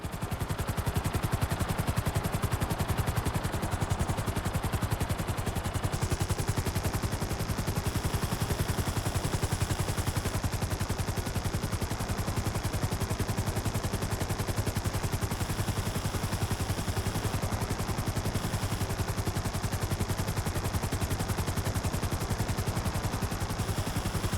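Sustained, dense gunfire from a helicopter in the video game GTA 5, continuous and loud over a steady rotor drone for the whole stretch, with no talk.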